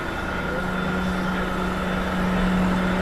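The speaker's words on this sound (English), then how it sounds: "This garbage truck sounds kind of loud." A garbage truck on a Manhattan street gives off a steady, loud engine drone with a constant hum, heard up close throughout amid street noise.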